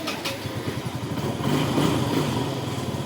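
Motorbike ridden along a road in Vietnam, a close steady engine putter with a rapid pulsing beat that rises slightly midway, with no talk over it.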